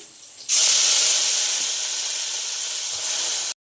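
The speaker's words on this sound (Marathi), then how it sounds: "तर बघा मी आता फोडणीला घालते वाटण" Ground masala paste hits hot oil for a prawn curry, bursting into a loud, sudden hiss that holds steady for about three seconds before cutting off.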